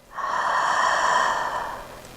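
Slow ujjayi yoga breath drawn in through a constricted throat, a steady hissing rush that swells in and fades over about two seconds, close and alone.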